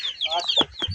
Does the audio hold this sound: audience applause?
no